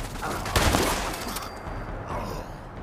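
A pump-action shotgun fires in the game Fallout 76, producing a dense, loud blast with booming echo that fades over a few seconds.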